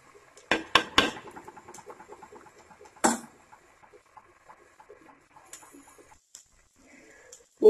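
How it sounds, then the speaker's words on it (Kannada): A spoon scrapes and clatters against a pan while masala is stirred for Mangalorean squid sukka, a few sharp metallic knocks early on, then quieter scraping and light sizzling, ending with another clank. "ಇದನ್ನ ಸ್ವಲ್ಪ ಫ್ರೈ ಆಗ್ಲಿಕ್ಕೆ ಬಿಡ್ಬೇಕು. ಮಸಾಲೆಯನ್ನು ತಿರುಗಿಸ್ತಾ ಇರಬೇಕು."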